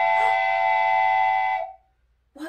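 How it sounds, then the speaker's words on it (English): A single long, steady train whistle sounds loud and close for about a second and a half, then cuts off into near silence. "It's a train!"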